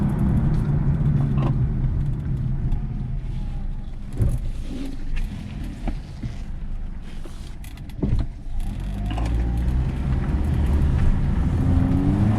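A Nissan Rogue on a test drive after new spark plugs and ignition work, its engine and road noise forming a deep continuous rumble with scattered rattles and jangling clicks inside the cabin.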